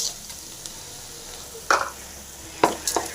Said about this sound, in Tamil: வெங்காயம் போட்டுடலாம். நல்லா ஃப்ரை பண்ணிங்க.